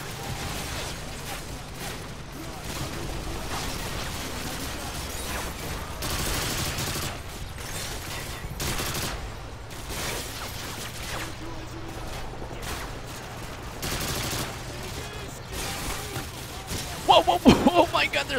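Heavy, sustained gunfire rattles through a battle in Call of Duty: Modern Warfare 2, dense fusillades and bursts with occasional heavier booms, while a voice talks over it.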